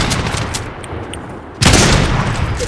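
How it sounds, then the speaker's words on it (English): Green Uzi fire in Fortnite erupts suddenly partway in as a loud, dense burst of rapid automatic gunshots, after quieter game ambience with faint clicks. "I'm coming with my green Uzi"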